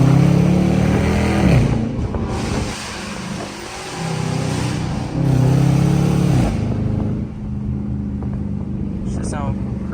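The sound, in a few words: Dodge Charger R/T engine accelerating with exhaust pops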